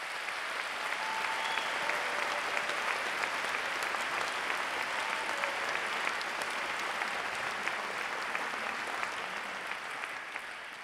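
Dense, steady applause from a concert audience for the volunteers, a continuous sheet of clapping with no talk over it, filling the whole span at a moderate distance.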